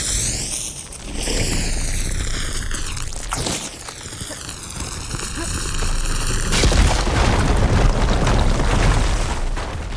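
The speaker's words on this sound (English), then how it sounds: "Should be able to blow up that fire gleam." A fire gleam is blown up in Horizon Forbidden West, giving deep booming blasts and a rumbling explosion with a sweeping whine and a later burst of crackling debris. A voice speaks around the blasts.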